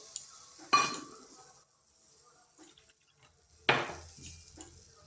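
Sugar tipped into a kadai to start a syrup for langcha sweets, landing in two short, sharp gritty bursts with faint clinks and a quiet pause between them.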